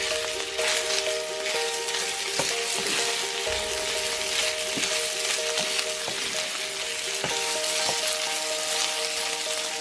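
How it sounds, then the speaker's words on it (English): Pork belly and shrimp sizzle in a skillet with a constant crackling hiss, overlaid by a few sharp clicks and scrapes of stirring, close and even throughout. "add the shrimp back into the skillet."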